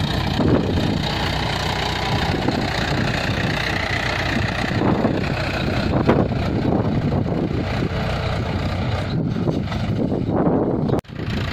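A tractor engine idling in a village field at dusk, a steady low chugging rumble that runs unbroken for several seconds, close and fairly loud with no speech.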